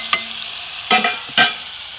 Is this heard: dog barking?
no